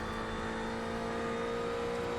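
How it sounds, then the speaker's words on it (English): Ferrari race car engine held at the redline in iRacing, a steady high-pitched droning whine with a buzzy harmonic edge, constant and unbroken throughout. "This thing, redlining, does not sound good."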